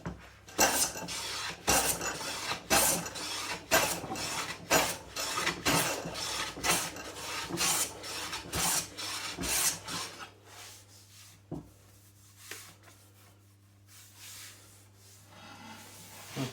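A hand plane smooths torn grain on a wooden board in a quick series of rhythmic, rasping swipes, loud and close, before the strokes stop and only faint handling noises remain.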